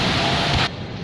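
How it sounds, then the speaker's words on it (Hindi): Very heavy rain roars in a loud, dense wash over a colony street, close and continuous, dipping abruptly in level partway through. "यहाँ पे बहुत ही ज़्यादा बारिश हो रही है"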